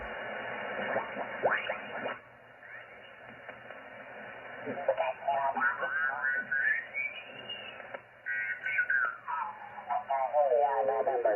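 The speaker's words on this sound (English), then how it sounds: "I'm going to turn the DSP off and find another signal here. Another station." A ham radio receiver sweeps across stations with DSP noise canceling switched off, giving hiss, whistling heterodyne tones rising and falling as the dial turns, and snatches of distorted voices through a narrow, band-limited speaker.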